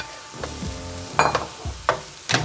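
Shrimp and diced tomatoes fry in a pan for tacos gobernador, with a steady sizzle broken by louder bursts of crackling and spatula stirring roughly every second.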